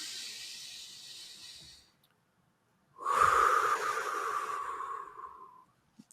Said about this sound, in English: Take one good deep breath together.